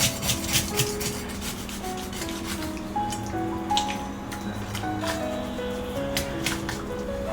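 A sea bass is scaled and cleaned by hand, giving a steady run of close scraping and rasping strokes with wet slaps and drips, broken by a few sharper knocks and a faint background hum.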